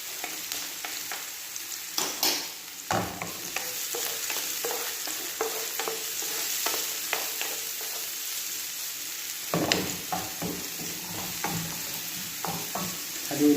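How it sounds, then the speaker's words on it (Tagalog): Garlic and white onion frying in a pan, stirred with a utensil, giving a continuous loud sizzle broken by frequent scraping and clinking strokes at a steady pace. "Haluin lang natin mga ka-recipe."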